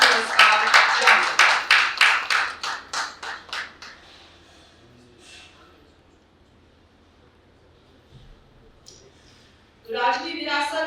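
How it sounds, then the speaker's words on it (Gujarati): An audience claps loudly to open an award function in Jamnagar. The bursts come in a quick rhythmic run that fades out over about four seconds, followed by quiet, and then a voice speaks near the end. "જોરદાર તાળીઓ સાથે શરૂ કરીએ મહાસન્માન પુરસ્કાર જામનગર."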